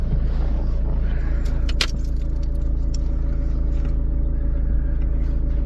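Car driving on the road home on a hot day: a steady low engine and road rumble drones from inside the cabin throughout, with a brief rattle or clink of loose objects partway through and no talk.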